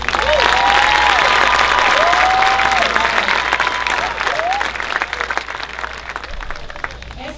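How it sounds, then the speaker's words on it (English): A graduation crowd applauds a group of high school seniors, a loud sustained wash of clapping with some cheering, while a voice and tonal sliding sounds sit over the start and the clapping eases slightly toward the end. "Let's give this group a round of applause"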